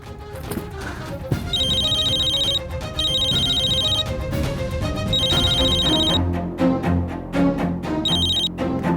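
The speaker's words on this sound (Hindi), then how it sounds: "माँ का फोन बजा, जरूर पापा का फोन होगा।" A phone ringtone chimes in repeated bursts with short gaps, playing over loud background music.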